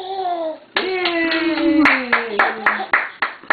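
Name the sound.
child clapping hands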